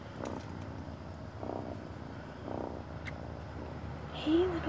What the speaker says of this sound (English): Do you hear that purr?